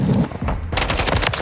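Rapid gunfire bursts in a shooter video game, loud and close, with dense crackling shots that intensify in the second half and continue without pause.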